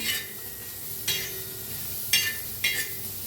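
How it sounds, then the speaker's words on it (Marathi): Chopped onion, chili and garlic roast in a pan under a steady soft sizzle, broken by a few sharp scraping stirs of the spatula. "आता काय करूया आपण पहिलं भाजून घेऊया कांदा मिरची बी बघा बारीक असं कापून घेतलं त्यातच टाकूया लसूण बी आणि हे भाजून घेऊया"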